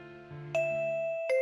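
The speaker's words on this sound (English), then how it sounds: "The school bell rings." A school bell chimes in the anime-style video game GODDESS OF VICTORY: NIKKE, with bright ding tones striking in sequence and ringing on over soft background music, with no talk.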